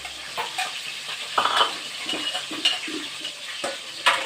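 Fish frying in a pan, with a steady sizzle and scattered clinks and stirring knocks from close by.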